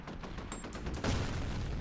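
Rapid 5.56 rifle gunfire in a video game, a dense stream of loud overlapping shots rattling on continuously for under two seconds.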